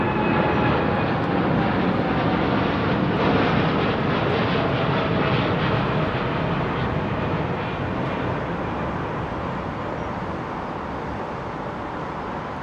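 A Virgin jet airliner at London Heathrow produces a loud, broad engine roar that holds steady and slowly fades as the aircraft moves away.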